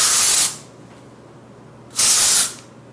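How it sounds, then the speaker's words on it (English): Volume powder sprayed onto the ends of hair in two short, close, airy hissing bursts separated by a quiet pause. "And I'm going to spray it on the end."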